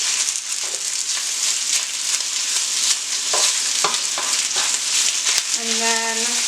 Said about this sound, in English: we're going to take a spatula and break it up a little bit